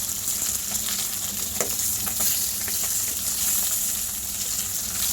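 Steady, crackling sizzle of small puti fish frying in hot oil, close and continuous, with a few brief clinks of a utensil against the pan.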